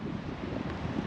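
Strong wind gusting across a snowy mountain campsite at minus twelve degrees, a steady low roar buffeting the microphone, close and unbroken for about a second.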